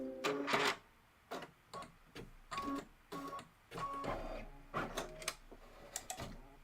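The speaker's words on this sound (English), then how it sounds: "You're going to be satin stitching." An embroidery machine satin stitches on leather, giving a quick run of light mechanical ticks and clatter in short bursts with brief pauses between them, close and fairly quiet.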